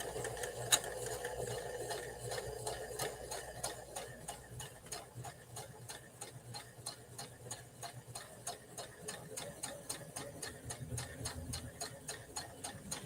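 A sewing machine stitching grey striped fabric without backtacking ticks along in a fast steady stream of needle strokes, quiet and continuous throughout.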